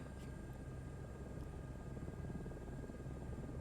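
Steady, even rotor and turbine drone of an H125 helicopter in Microsoft Flight Simulator 2024, continuous and fairly faint with no voices over it.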